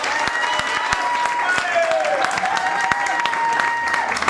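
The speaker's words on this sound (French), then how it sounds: "nous allons vous demander d'applaudir une fois de plus." An audience at an ambassador-naming ceremony applauds continuously, a dense, steady wash of many hands clapping throughout, while a voice talks over it.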